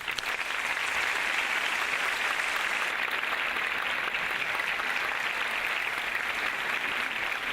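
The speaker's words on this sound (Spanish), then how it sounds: "Un aplauso para él." Sustained audience applause at a Naukas science outreach event in Murcia, a dense, steady wash of clapping from a large crowd that stays loud and even throughout.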